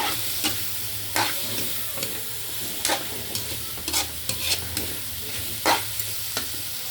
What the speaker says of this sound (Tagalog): Sabay ko na rin pala sa gisa yung papaya kasi medyo matigas.